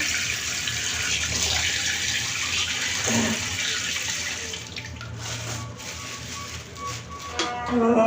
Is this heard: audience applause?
no